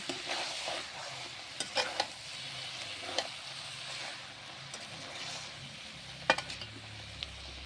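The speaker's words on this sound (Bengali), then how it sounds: "এটা ভালোভাবে কষিয়ে নেব" Ground taro paste sautés in a pan, a steady soft sizzle with occasional scraping stir strokes and light clicks from the utensil against the pan, heard close and alone.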